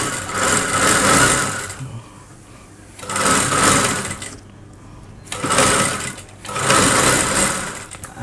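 A sewing machine runs in four steady bursts while stitching a salwar seam, with short quiet pauses between runs as the fabric is repositioned; close and fairly loud, no talking.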